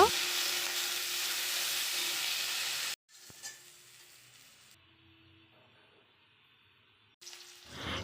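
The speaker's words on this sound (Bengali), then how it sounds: "বিনসগুলিকে ভেজে নেব" Beans fry in a pan with a bright, steady sizzle for about three seconds. It drops away to near quiet with faint clinks, then the sizzle briefly returns at the end.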